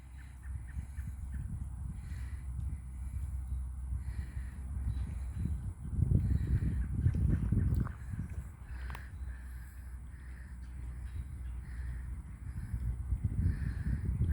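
An agitated bird gives repeated harsh, scratchy calls over a low rumbling background, louder in bursts midway and again near the end, with no one speaking.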